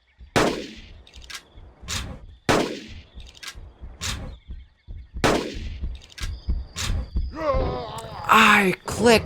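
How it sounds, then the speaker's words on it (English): Gunshots ring out at a Carnotaurus in the hunting game Carnivores Genesis: several sharp, loud reports spaced a second or two apart, followed by bellowing creature cries near the end. "I clicked to fire!"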